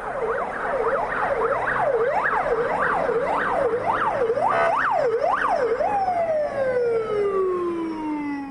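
An ambulance siren wails loudly on a city street, cycling through a rapid rising-and-falling yelp before settling into a long descending tone as the vehicle passes, with no talk over it.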